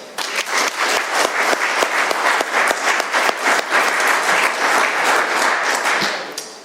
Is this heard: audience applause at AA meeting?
yes